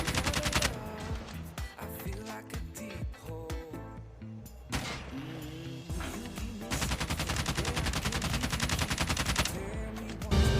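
LK24 assault rifle fire in COD Mobile, loud sustained automatic bursts with a brief pause midway, then a long continuous stream of rapid shots.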